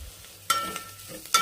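Turmeric and chili powder stirred into hot oil for a Tamil Nadu–style kushka: two sharp scraping stirs of a spoon against the pan over a soft, steady sizzle, close and brief, no voices.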